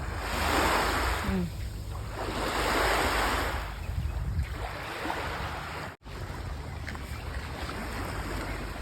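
Waves roll in and wash up on a Thai beach in the early morning in slow surges, mixed with wind rumbling against the microphone.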